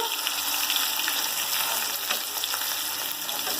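Hilsa fish roe frying in a pan, a steady close sizzle and crackle of hot oil throughout with faint stirring, no talking.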